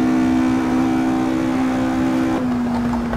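A 1957 Porsche 718 RS 60 Spyder engine in top gear at Bathurst, Australia, in the Assetto Corsa racing game: a loud, sustained high-revving drone that holds steady, then drops slightly in pitch near the end.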